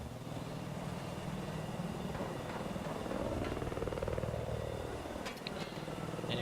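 A video-game helicopter in a 10v10 match whirs continuously with a steady rotor drone, its pitch sweeping up and down as it backs away, with faint clicks near the end.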